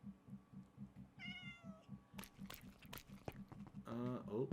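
Cat meowing in the video game Minecraft, a faint meow followed by a louder, rising meow near the end, over a soft rhythmic crunching or chewing pattern with a few sharp clicks.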